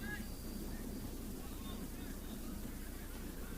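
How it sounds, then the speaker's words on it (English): Steady, roaring wind buffets the microphone throughout at an outdoor youth soccer match near Dallas, Texas, a constant low rumble with no pause in the gusting. "Matt, the wind is going to be a huge factor today"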